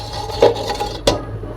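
A pot lid comes off a pan of cooking semai with two short metallic clinks about half a second apart. Faint kitchen hum sits underneath.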